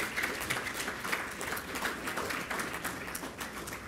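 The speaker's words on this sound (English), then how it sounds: "Let's give him a round of applause" Sustained applause fills the hall at an Air Force retirement ceremony, an even wash of many hands clapping at moderate distance with no break.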